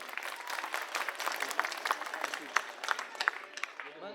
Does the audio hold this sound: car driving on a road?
no